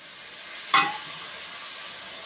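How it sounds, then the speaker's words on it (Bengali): Tomato and ginger paste cooking in a pan gives a steady soft hiss, then water is added and a sudden loud burst of sizzling steam hits and fades back into a constant low frying sound, with no voices. "টমেটো আদা বাটা এটা কাঁচা গন্ধটা যাতে না থাকে সেই হিসাবে কষিয়ে নিয়ে অল্পটু জল দিয়ে দিচ্ছি"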